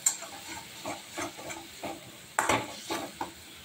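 Masala spice being roasted in a pan for masala bhindi (okra), heard as soft sizzling with several light scrapes of a spoon stirring, close up and fairly quiet, with no talking.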